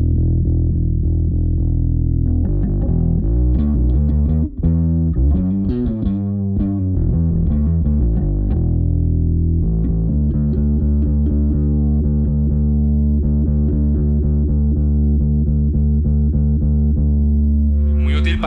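A bass guitar plays through an Aguilar Tone Hammer 500 bass head with gain raised for distortion, a loud, close, sustained run of notes and held tones that fills the whole stretch without talk.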